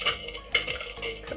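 A dash of cinnamon is mixed into a tequila cocktail ingredient, heard as a few quick metallic clinks and scrapes of a utensil against a container over about a second and a half, close and clear with no talking.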